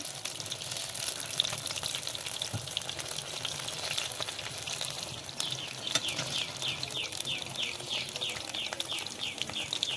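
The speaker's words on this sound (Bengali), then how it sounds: "এটা টাইম নিয়ে ভাজতে হবে বন্ধুরা আস্তে আস্তে" Papaya chops frying slowly in oil in a pan, a steady dense sizzle with soft bubbling crackle running unbroken and close throughout, no talking.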